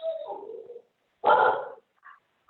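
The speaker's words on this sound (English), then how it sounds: "you're about to hear some barking dogs" Three rescue dogs at home bark and yelp in short, loud bursts with brief gaps, heard near and alone.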